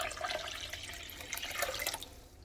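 Water pours through a strainer while making a taco recipe, a continuous splashing trickle at close range that fades toward the end, with no talking.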